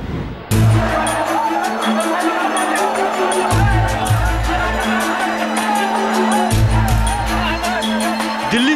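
A dense crowd of passengers packs a Delhi railway station, producing a continuous loud hubbub of voices and shouting with a low rumble beneath and a voice speaking over the noise.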